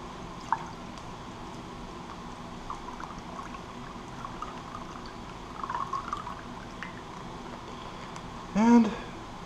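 Warm coffee from an MRE Menu 18 ration is poured in one short, gurgling burst near the end, after a long stretch of quiet room tone with faint handling noises.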